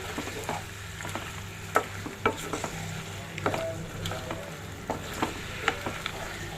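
Ginger and garlic frying in a pan, stirred throughout: a steady close sizzle broken by frequent sharp clicks and scrapes of the spoon, with no talking.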